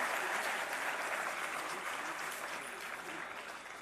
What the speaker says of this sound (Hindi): एक बार जोरदार तालियां इन सभी मेधावी छात्र छात्राओं के लिए।